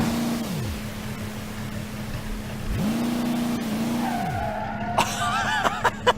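In the BeamNG.Drive video game, a wagon's tires skid and squeal as it brakes hard on a wet surface, with two drawn-out screeches over the hum of the engine, followed by a few short bumps.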